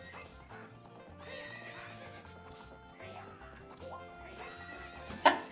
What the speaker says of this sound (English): What's up with that horse? Is that Epona?